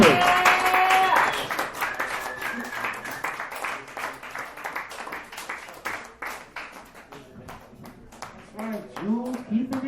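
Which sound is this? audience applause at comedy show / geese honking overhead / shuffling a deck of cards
audience applause at comedy show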